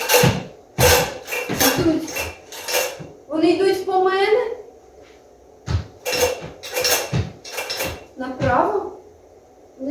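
Bright metallic clinking and jangling in repeated bursts, close by, with a short rattling scrape partway through and no talking.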